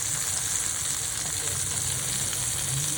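Large bombil (Bombay duck) fish frying in a pan, a loud continuous close sizzle with crackle throughout and no clear speech.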